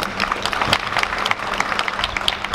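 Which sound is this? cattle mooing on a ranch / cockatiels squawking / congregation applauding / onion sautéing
congregation applauding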